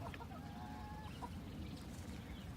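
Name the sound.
chickens clucking on pasture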